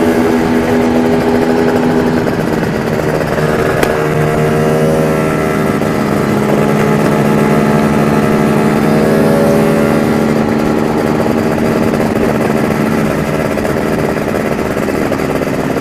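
A snowmobile sledge engine runs steadily for the whole stretch as a loud, continuous droning whine with a constant pitch. It sounds close and unvarying, and no one speaks over it.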